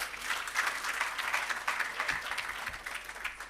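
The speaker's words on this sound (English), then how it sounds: "Please give him another round of applause." Audience applause at the commissioning and launch of an irrigation system and agro park, a steady dense clapping from a crowd that holds evenly loud for a few seconds with no talk over it.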